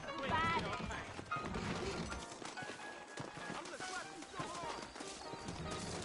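Horse hooves clip-clop amid busy game ambience in Red Dead Redemption, with someone speaking over the sounds of saddled horses moving nearby.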